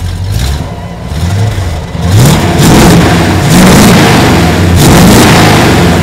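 Loud, close engine revs from a 1969 Dodge Super Bee heard through its exhaust: several sharp throttle blips rising and falling over a steady idle rumble.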